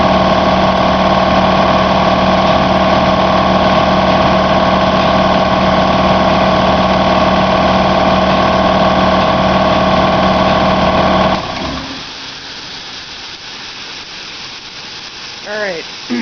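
A cold shop air compressor runs loudly with a steady droning hum for about eleven seconds building pressure, then shuts off and leaves quieter background sound.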